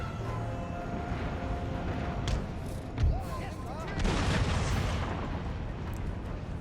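Muskets and cannons firing in battle in Empire: Total War, with scattered shots and a deep boom. A heavier rumble of fire follows, all under steady background noise and a voice speaking.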